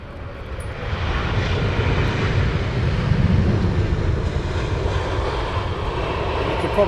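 A heavy jet airliner arrives at London Heathrow Airport, its engine roar steady and loud throughout, a broad rumbling wash with no voices over it.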